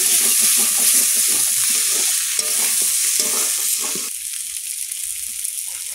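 Garlic fries in oil alongside prawns in a pan, a dense bright sizzle with rhythmic stirring scrapes up close, quieting noticeably after the first few seconds.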